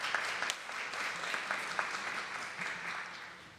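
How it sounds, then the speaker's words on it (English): A church congregation at a Sunday service applauds for a few seconds, the clapping soft and somewhat distant, with scattered individual claps standing out from the steady patter. "Yeah, you can applaud that."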